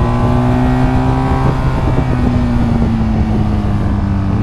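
BMW motorcycle accelerating hard around the MotorPark Romania race circuit, a loud, steady engine drone with rising harmonic pitch and a gear change partway through, with wind buffeting at the microphone.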